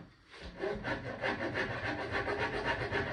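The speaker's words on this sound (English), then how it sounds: "I'm going to take just a hacksaw blade, real thin hacksaw blade." A thin hacksaw blade saws through wooden dowels inside a dresser, giving close, steady, rhythmic rasping strokes at an even pace.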